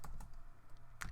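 A computer keyboard is tapped while someone writes Qt code: a few sparse, close keystroke clicks with short pauses between them and one sharper click near the end, with no voice present.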